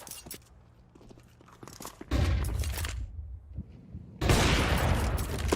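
Gunfire in a Counter-Strike match at Major Copenhagen 2024: two loud, dense bursts of rapid shots, close and harsh, each running for a second or more after quieter clicks and footsteps.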